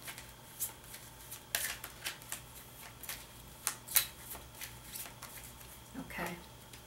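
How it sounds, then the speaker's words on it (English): Galileo's Time deck cards are shuffled in a series of soft riffling bursts, close by, over a low steady hum. "shuffling the cards"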